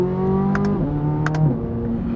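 A 2023 Corvette Z06 with its LT6 flat-plane crank V8 revs hard, a close, loud, tonal engine whine that climbs and drops in quick shifts over about two seconds.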